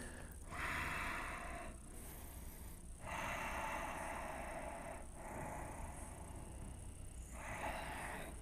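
Slow, deep breathing during a yoga class, close and steady, with long airy inhales and exhales repeating in a calm rhythm.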